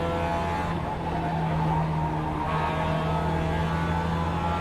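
Race cars in a racing video game roar past one after another as rivals close in, a steady loud engine drone with no talk over it.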